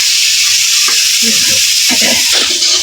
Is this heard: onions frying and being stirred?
yes